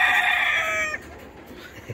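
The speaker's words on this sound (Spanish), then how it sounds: "Es agresivo el gallo." An aggressive fighting rooster being prepared for competition crows loudly and close for about a second, a bright sustained call, followed by quieter low clucks and a short final cluck.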